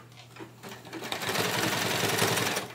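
A sewing machine stitches in reverse while sewing a hair towel, its motor whirring and speeding up into a steady, close mechanical buzz for a few seconds, with no voices.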